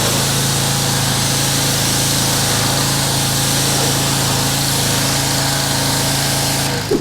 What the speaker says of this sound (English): we're gonna give it a good pressure wash and remove any type of heavy contamination